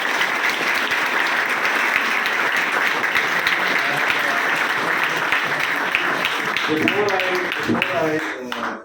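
A seated audience gives a loud, sustained round of applause to welcome a recommended SSB candidate, steady dense clapping filling the whole stretch before tapering at the end, with voices faintly under it.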